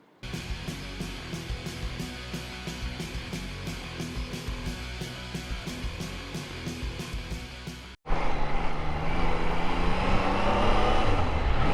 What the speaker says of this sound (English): So we are riding the Daytona 660